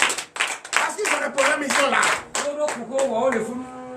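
A church congregation claps along steadily during a Sunday worship service while someone speaks loudly over the rhythmic handclaps.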